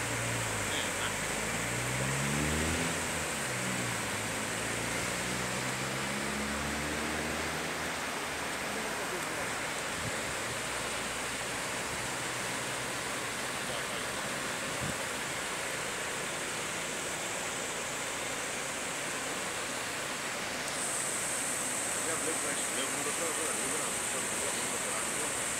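A car drives slowly through rain floodwater, giving a steady broad wash of water and rain noise throughout, with a low rumble and the sounds of passengers present at moderate distance.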